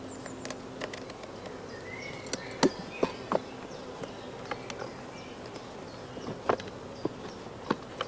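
Honeybees buzz faintly around queen-rearing nuclei, a soft hum broken by scattered ticks and light taps.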